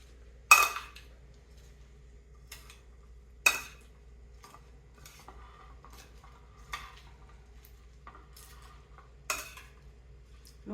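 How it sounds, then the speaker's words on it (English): Cucumber egg salad ingredients being mixed in a bowl, a few distinct utensil clinks against the dish spaced several seconds apart, with softer stirring scrapes between, quiet and close. "We are going to mix everything together."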